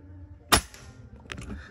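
A single sharp shot from a budget Condor PCP air rifle, a sudden close crack with a brief tail, followed by faint handling noises and a softer click.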